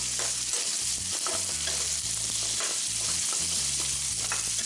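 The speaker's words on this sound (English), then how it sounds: "actually going to add the ginger first and let that cook for about a minute or so" Ginger fries in a pan with a steady, close sizzle that runs without pause under soft scraping and stirring, with no one speaking.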